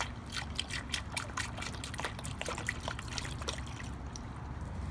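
Water trickles and splashes through a funnel into the coolant system of a 2003–2007 Honda, a steady pour with small gurgles and drips, close and continuous with no talking.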